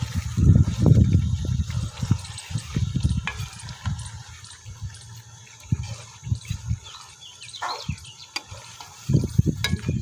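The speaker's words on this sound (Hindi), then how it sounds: "धनिया ऐड करने के बाद इसको थोड़ा सा हिला लेंगे।" Chicken karahi being stirred in a pan after coriander is added, with low scraping and stirring sounds and a soft sizzle running through, with no talk.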